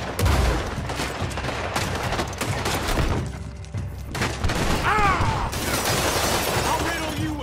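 Gunfire in the Western video game Red Dead Redemption 2, loud bursts of shots and shattering over a busy mix, with a voice shouting during the exchange.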